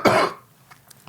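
A single short, harsh cough from a man on a radio podcast, close and loud at the start, followed by a couple of faint throat sounds and quiet breaths.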